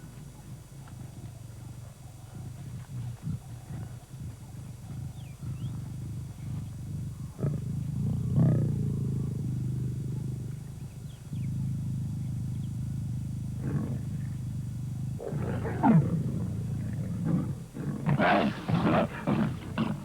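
Male lions fighting over a lioness in the wild, deep rumbling roars and growls rising and falling over a low background, with snarling bursts and scuffling, near and fairly loud.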